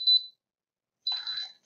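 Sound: jump starter beeping indicator for reversed clamps

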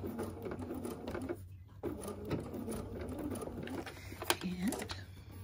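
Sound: sewing machine stitching a backstitch

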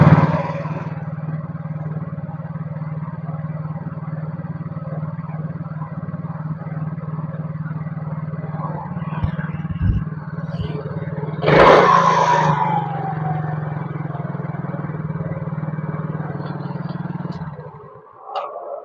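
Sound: Yamaha Mio GT motorcycle engine idling unstably

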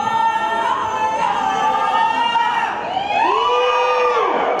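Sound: crowd cheering and shouting at Thai ordination ceremony

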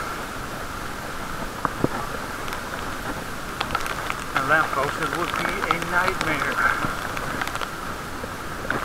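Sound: rain during a bike ride

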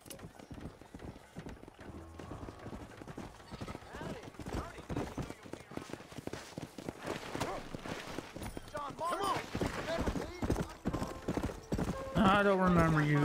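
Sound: horse hooves in a video game

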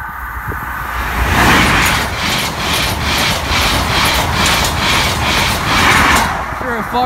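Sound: HST train passing a level crossing

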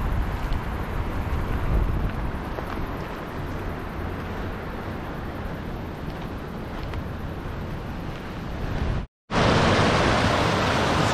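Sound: waterfall flowing at a dam spillway

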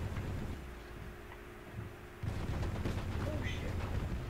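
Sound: gunfire in the video game Team Fortress 2

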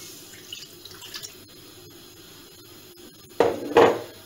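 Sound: water being poured into a pot on the stove

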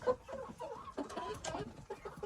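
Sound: roosters crowing and clucking

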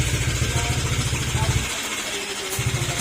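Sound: motorcycle engine with loud knocking noise

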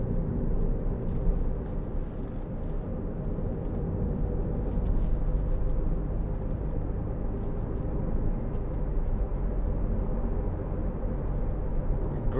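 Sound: Audi TTS quattro car accelerating on test drive

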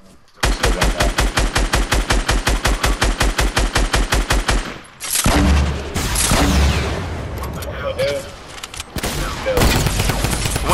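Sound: gunfire in a shooter video game

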